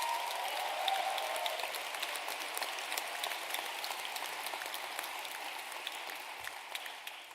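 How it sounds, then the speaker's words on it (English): Sustained applause from a graduation ceremony audience honouring the parents, a steady dense wash of many hands clapping at even volume throughout, with no voices over it. "a round of applause to the parents"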